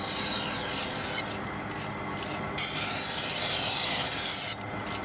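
A kitchen knife is drawn across a 600 grit whetstone in long, steady rasping strokes, close and loud, with a change of stroke direction partway through and no talking.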